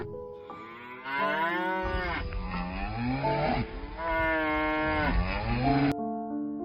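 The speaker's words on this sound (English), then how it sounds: "Cow." A cow moos in several long, drawn-out calls with rising and falling pitch, loud and close, sounding alone against a quiet background.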